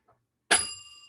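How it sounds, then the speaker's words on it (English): A single bright ding from a small hand bell rung by a live show host, struck once sharply and left to ring out with a clear, fading metallic tone. "I do have a bell, and I do have fun sounds that sometimes you will hear"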